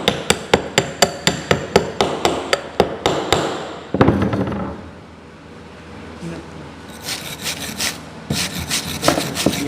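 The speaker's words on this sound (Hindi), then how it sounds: "ये वायर ब्रश का यूज़ करके हमने सफाई कर ली" Wire brush scrubbing slag off a fresh practice weld, starting with a run of sharp, rhythmic strokes, then fainter scratchy rubbing and a final burst of brisk brushing, close up with no talk.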